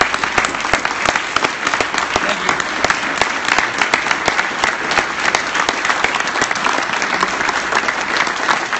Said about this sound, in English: join me in giving Bob a big round of applause